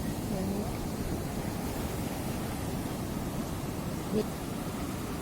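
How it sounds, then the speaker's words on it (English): Gentle, slow surf rolls steadily onto RK Beach in Vizag in the early morning, a continuous soft wash of ocean waves with light wind noise and no distinct breaking crashes. "Waves are very slow"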